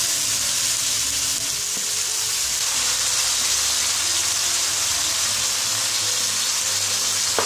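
Beef frying in a pan, a steady dense sizzle with a broad crackling hiss that runs unbroken and fairly loud the whole time, with a few faint clicks and no voices.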